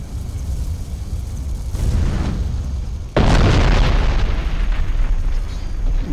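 A loud explosion erupts in the fantasy game Arcania: Gothic 4, a heavy broadband boom that bursts in suddenly after a smaller rumbling blast and holds steady with a roaring tail, with no talking.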